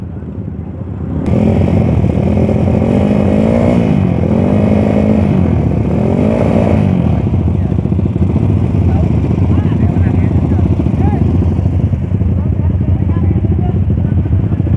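Motorcycles roar loudly and close at a night street race on Sudirman, with one engine revving up and down over a steady, dense engine drone and voices underneath.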